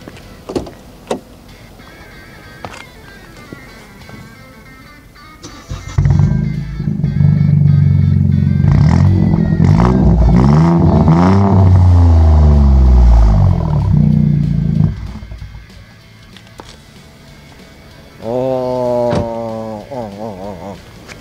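Close, loud exhaust revs from a BMW F20 118i M Sport with a one-off custom muffler, rising and holding for several seconds, then dropping away; a second shorter rev follows after a pause, with clicks before.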